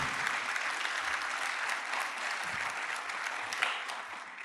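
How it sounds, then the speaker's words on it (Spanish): A church congregation applauding during a sermon, steady dense clapping from many people that continues evenly for several seconds with no talking. "Dele ese aplauso"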